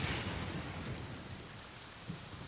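Rain falls steadily in the video game Genshin Impact, a continuous hiss with low thunder rumbling underneath, without any voices.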